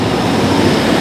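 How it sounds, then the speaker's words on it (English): A loud, noisy train passes close by at a station, giving a steady broadband roar with a rumbling low end and no speech over it. "wow, a very noisy train."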